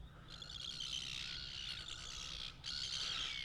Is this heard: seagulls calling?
yes